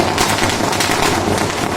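A lit firecracker bursts in a rapid crackling string of sharp pops, loud and close, packed densely together for under two seconds.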